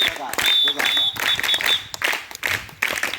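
Audience applause at a school Children's Day celebration in Telangana, coming in several bursts of clapping that rise and fall, with a voice speaking over the top.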